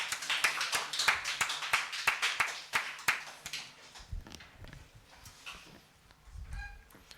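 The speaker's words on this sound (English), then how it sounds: "Please welcome Dr. Meera Das with a huge round of applause" Sparse clapping from a small audience at an art talk welcomes Dr. Meera Das, distinct hand claps in a quick rhythm for about three seconds before thinning out into near quiet with a few soft low thuds.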